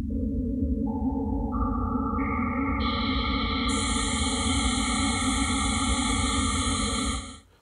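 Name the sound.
odd-band filtered white noise from Buchla 296e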